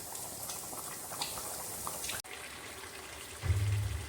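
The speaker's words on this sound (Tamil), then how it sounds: "இது நல்லா கொதிச்சு அந்த தண்ணியெல்லாம் கொஞ்சம் சுண்டட்டும்." Country chicken simmers in a kadai as its water boils down, a steady soft bubbling with a brief break and a louder burst near the end, without talk.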